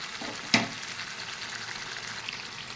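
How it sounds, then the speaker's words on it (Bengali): Chicken pieces sizzle and fry steadily in a hot pan, a soft continuous crackle with one sharp clink near the start, and no talking. "এইভাবে কিছুক্ষণ কষতে হবে মাংসটা।"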